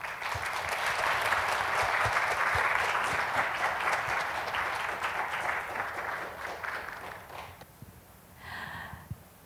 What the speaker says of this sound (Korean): 올라오실 때 큰 박수 부탁드립니다.